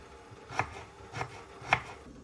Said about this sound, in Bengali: গাজরটাও কেটে নেব ছোট ছোট কুচি কুচি করে